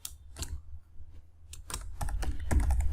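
Keys clatter on a computer keyboard while Python code is entered: a few scattered taps, a short pause, then a quicker run of close, crisp keystrokes.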